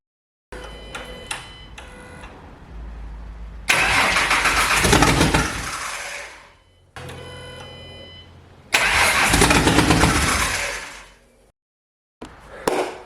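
A rebuilt Ford Mustang engine running through nearly open headers cranks with a rhythmic starter whir, then bursts into loud, rough roaring attempts that fade out, repeated twice with pauses between, close up.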